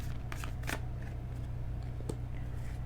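Quick bursts of Sugar Skull tarot cards riffling and slapping together, a few separate shuffles close by over a steady low hum.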